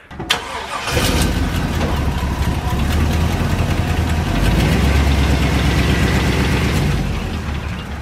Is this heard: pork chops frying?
no